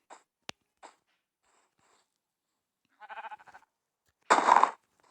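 Sheep bleating in the Minecraft video game: a few scattered soft clicks, then two short, wavering bleats, the second louder and clearer, against an otherwise silent background.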